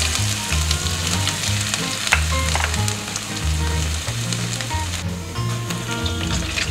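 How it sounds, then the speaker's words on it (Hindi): Asafoetida, dried red chilli, bay leaf and grated ginger fry in hot oil with a dense, loud, continuous sizzle, punctuated by spoon scrapes and small clinks. "1/4 हींग है, 1 तोड़ के सूखी लाल मिर्च, 1 तेज़पत्ता है और जो मैंने कद्दूकस करके अदरक डाली थी वो डाल देते हैं"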